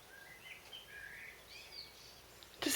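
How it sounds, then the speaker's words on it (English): Birds sing outside a garden porch, with faint, thin chirps and warbling phrases drifting over a quiet outdoor background, followed by a brief louder rustle or bump at the end. "Can you hear the sounds of the birds?"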